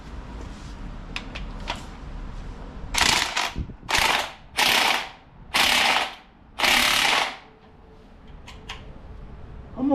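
Bolt tightened with a ratchet during head gasket repair on a 2001 Cadillac DeVille Northstar engine, heard as five loud, close bursts of rapid ratchet clicking in an even rhythm, with faint ticks before and after and no talk.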